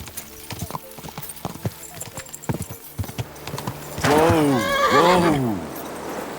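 A horse in Kingdom Come Deliverance 2 gives a loud, drawn-out whinny in the second half, after a stretch of scattered hoof clip-clops and faint background noise.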